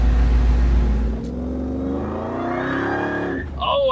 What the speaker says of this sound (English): I can hear the blower now.